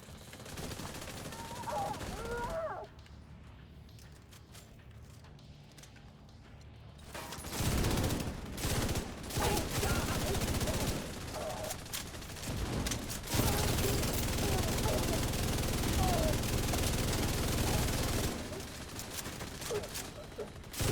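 Light machine gun fire in a shooter video game, rattling in long sustained bursts with a quieter pause between them, loud and close in the mix.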